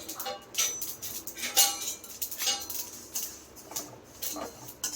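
Sesame seeds roasting in a pan for sarva pindi, with close, irregular scraping and light clinks from stirring, sparse rustles repeating through the clip without talk.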